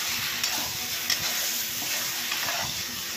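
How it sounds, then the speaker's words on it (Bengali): Spice masala with potato and pointed gourd is sautéed in a pan for a vegetarian paneer dish. A dense, even sizzle plays alongside repeated close stirring and scraping, with no voices. "দেখো, এখানে মশলাটা কষানো হয়ে গেল"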